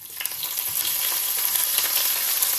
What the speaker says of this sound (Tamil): தாளிக்கிறதுக்கு சட்டி வச்சுருக்கு விடுவோம். கொஞ்சம் கடுகு பெருஞ்சீரகம் போட்டு இதுக்குள்ளே எனக்கு கொஞ்சம் வெங்காயத்தை போட்டு